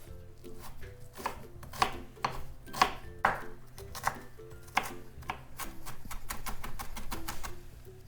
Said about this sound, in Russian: одну луковицу среднего размера я нарезаю мелко